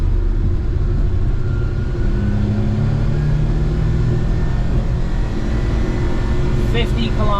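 Suzuki Carry kei truck accelerating in third gear, a steady loud engine drone with rising harmonic whine and road rumble throughout, close and continuous from inside the cab.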